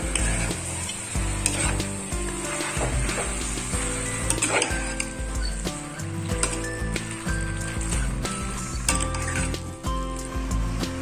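Goat intestine gravy being stirred in a pan, a thick, steady sizzle under continuous scraping and clinks of a spoon against metal, busy and close throughout with no talk.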